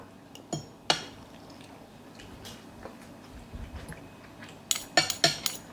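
Eggs stirred in a pan for shrimp fried rice, with a few sharp metallic clinks of a utensil against the pan over a low sizzle, clustering near the end.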